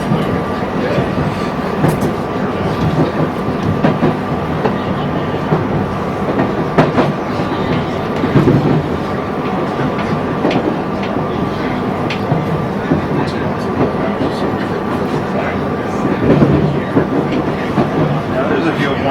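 A CSX freight train rolls past on the Bethlehem Branch, a steady, loud rumble of wheels and cars with faint clicks and squeals, continuous throughout.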